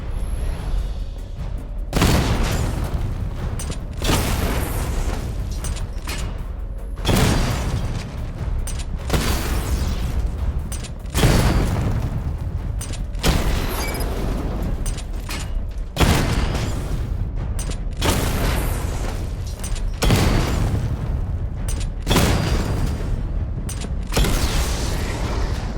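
Repeated heavy booms from missile barrage blasts in Batman Arkham Knight, a run of about ten loud, broad explosions spaced a couple of seconds apart, each rumbling and decaying into the next.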